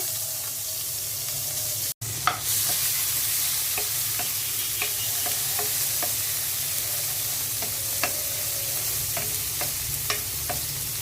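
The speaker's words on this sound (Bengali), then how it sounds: "মাছ ভাজা তেলের মধ্যেই পেঁয়াজ দিয়ে দিচ্ছি" Onions tossed into the hot oil left from frying fish crackle in a continuous loud sizzle, punctuated by scattered light scrapes and taps of a spatula stirring the pan.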